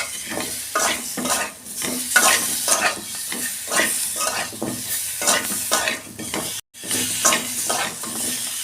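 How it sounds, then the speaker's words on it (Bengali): Mango chutney with coriander powder is stirred in a pan over heat, with a steady sizzle of frying under repeated rhythmic scraping strokes of a spoon against the metal, close and fairly loud, with no talking. "আমগুলো একটু নাড়াচাড়া করে নেবো। একটু ধনের গুঁড়ো দিচ্ছি।"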